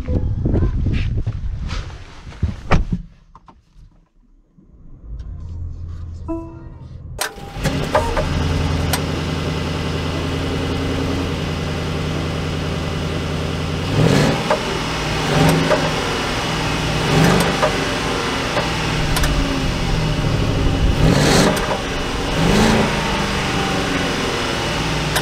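A 2022 Mercedes S580 4Matic comes to life after a brief lull, settling into a smooth, steady engine hum with a few soft clicks and thumps over it.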